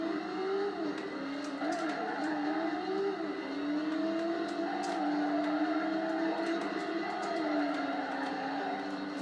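A racing car in the PS1 video game Driver during a braking test, a continuous engine drone with shifting pitch as speed rises and falls, close and steady throughout.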